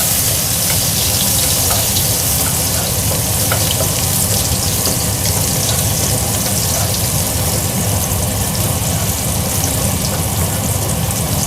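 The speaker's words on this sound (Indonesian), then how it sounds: "Bawang putih. Tumis sampai wangi." Steady, loud sizzling of garlic frying in hot oil, a dense continuous crackle up close with no pauses or talking.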